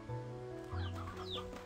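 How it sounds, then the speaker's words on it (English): Chickens clucking in the video game Slime Rancher 2, a few short bird calls rising over a steady low game hum, moderately faint and without talk. "Just chickens."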